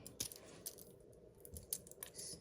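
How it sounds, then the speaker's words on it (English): A knife dicing fresh ginger on a board in a home kitchen, sharp irregular taps and clicks at close range over quiet background hiss. "So I'll dice my ginger into"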